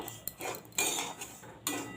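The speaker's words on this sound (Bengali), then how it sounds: "সুজিটাকে আমি লো টু মিডিয়ামে করে আমি হালকা করে ভেজে নেব" Semolina being stirred and lightly fried in a pan over low to medium heat, heard as scraping and clinking of a utensil against the metal pan in a few short strokes, close and fairly quiet.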